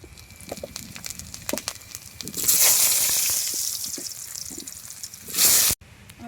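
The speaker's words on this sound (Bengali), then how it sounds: "এবার আলুগুলো ভেজে নেব।" Potatoes dropped into hot oil in a village kitchen wok burst into a loud, dense sizzle that slowly eases, flaring again briefly before cutting off, preceded by clattering and scattered taps.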